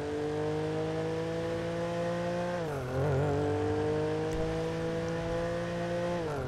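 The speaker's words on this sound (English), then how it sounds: "That car sounds well sick." A custom BMW M4 in a GTA police roleplay game idles with a steady, droning engine note that dips briefly as the revs drop, then settles back to a constant hum, with no talking.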